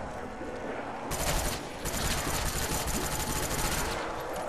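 Rapid automatic gunfire in Call of Duty Black Ops Zombies on the Der Riese map, dense crackling bursts that start and stop, with game effects underneath.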